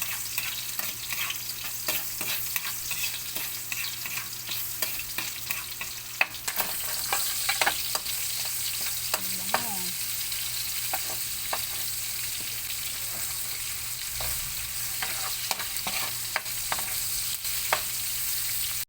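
Garlic and onion sauté in the oily pan left from frying salmon, a steady close sizzle with scattered scraping and clinking stir strokes running throughout.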